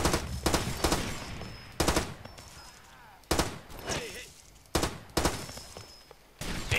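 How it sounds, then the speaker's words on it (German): Gunfire in the video game Far Cry 2 rings out in repeated loud, close bursts, several rapid shots in a row with short pauses between volleys and faint ambient game sound in the gaps. "So, von irgendwo kommen da Schüsse."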